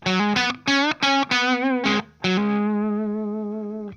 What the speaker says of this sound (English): in series, that sounds like a normal humbucker tone